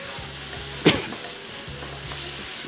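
A red chilli and turmeric spice mix sizzles steadily in a hot pan, with a close frying hiss and a couple of brief stirring scrapes.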